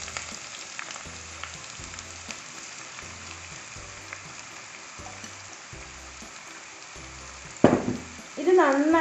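Thinly sliced onions, about three cups, frying in hot oil for a Mughlai chicken dish, giving a steady soft sizzle with light stirring clicks, then a louder burst of crackling near the end.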